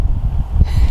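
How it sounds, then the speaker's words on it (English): Strong gusting wind from the edge of a hurricane buffets the microphone in a brief, loud, low rumble with no other sounds over it. "Woo, it's windy."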